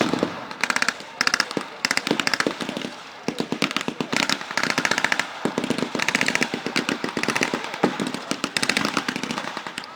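Crackling gunfire at an outdoor World War II battle reenactment between American and German troops, dense irregular volleys of rifle and machine-gun shots at mid distance, continuous throughout with brief lulls.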